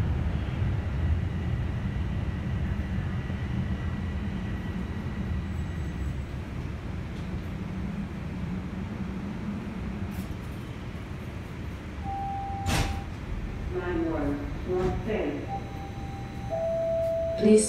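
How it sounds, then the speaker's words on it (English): Toronto subway train pulling into Downsview Park station, a steady low rumble of the car in motion with brief brake squeals and tonal whines building near the end as it slows. "Arriving at Downsview Park, Downsview Park Station."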